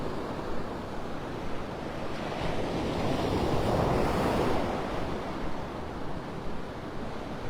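Ocean surf rolls steadily onto a Gulf beach at low tide near Wiggins Pass in North Naples, Florida, a continuous wash of breaking waves swelling mid-clip, with light wind rumble across the microphone and no voices.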